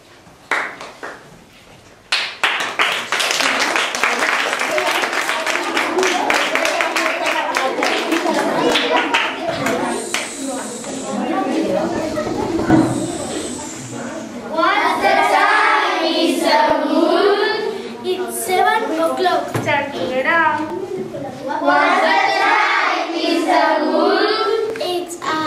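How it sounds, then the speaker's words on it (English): Clapping from a school class audience at an English day performance: a dense patter of hands for several seconds, then children's singing takes over with a few claps mixed in. "A round of applause."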